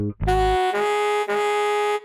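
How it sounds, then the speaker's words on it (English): Saxophone growl made by humming into the horn while blowing: one sustained, rough, buzzy note of about two seconds, loud and close, with no talk, after a brief low breathy onset. "if you blow with a humming noise straight into it, you will get that growl."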